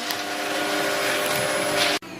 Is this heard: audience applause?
no